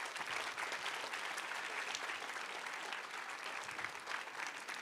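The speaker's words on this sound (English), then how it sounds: "If we could please give them all a round of applause." Audience at a VEX IQ robotics competition applauding event volunteers: a dense, even roar of many hands clapping, fairly faint and distant in a large hall, continuing steadily without speech.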